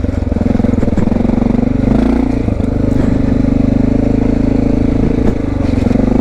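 Honda XR650L motorcycle splashing through a stream on a snowy mountain ride, its steady single-cylinder engine drone loud and close throughout, with a low clatter and slight revving.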